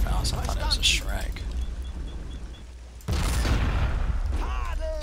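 In the World War II strategy game Men of War: Assault Squad 2, a Panzerfaust anti-tank launcher fires among scattered gunfire, with several sharp blasts and a loud burst near the middle, under a player's voice.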